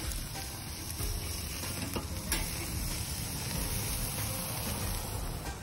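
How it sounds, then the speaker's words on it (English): Burgers cook on a charcoal grill with a steady, close sizzle that never lets up, plus a few faint scrapes and taps. "cook up some Englewood burgers"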